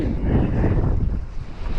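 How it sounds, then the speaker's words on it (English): Wind buffets the microphone in a loud, rumbling roar with gusty low-frequency blasts, easing slightly toward the end. "It's a windy day."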